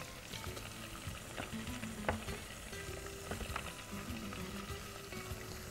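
Curry leaves, mint and coriander sizzling and frying in hot oil in a pan, a steady crackle with occasional stirring scrapes and no voices.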